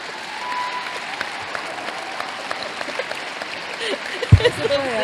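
An audience applauds at a talk, a dense sustained clapping that swells toward the end, with a voice speaking underneath.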